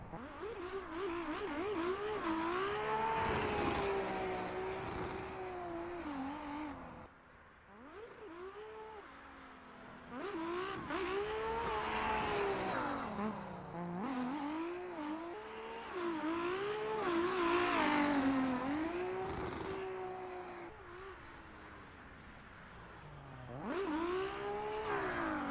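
A loud 2JZ-powered Lamborghini drift car engine in a racing video game revs and roars in repeated surges, pitch climbing and dropping as it accelerates, with short lulls between bursts.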